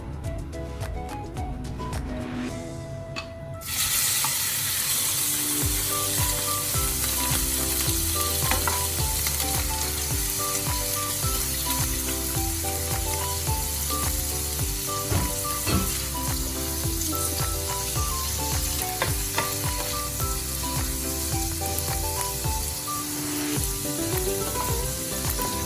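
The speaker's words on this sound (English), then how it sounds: "add the cooking oil. Putting in the shrimp." Shrimp frying in hot cooking oil, a loud, steady, close sizzle that jumps in abruptly after a few seconds and continues under background music.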